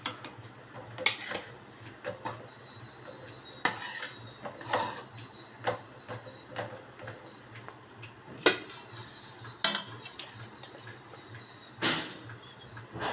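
A spatula clatters and scrapes in a pan as fried egg pieces are tossed through egg fried rice, with irregular close metallic knocks and taps over a low background hum and no talk.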